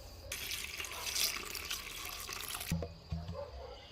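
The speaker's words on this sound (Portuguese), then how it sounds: "eu vou dar uma pré-lavada nelas com água filtrada novamente" Orchids are rinsed under a steady stream of filtered water from a tap, a continuous splashing flow that cuts off near the end, followed by a few soft drips and handling sounds.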